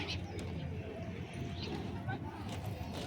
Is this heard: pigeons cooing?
yes